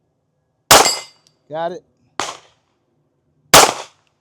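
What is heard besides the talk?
S&W Bodyguard 2.0 .380 pistol shots at range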